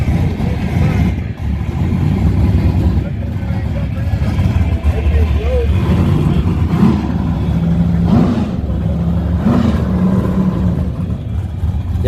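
A nitrous drag race car engine roars and revs continuously at close range at a night drag racing event, a loud steady drone with rising pitch as it accelerates.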